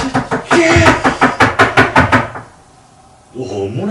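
Loud, rapid knocking on a door, about a dozen sharp evenly spaced raps over two seconds, then a pause before a voice starts speaking.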